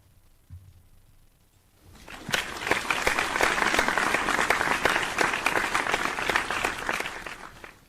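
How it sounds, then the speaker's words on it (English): A studio group on a sports radio show claps for a departing NFL coach. After a quiet start, dense applause swells in at about two seconds and holds steady, loud and close, to the end. "Let's give him a clap one more time, man"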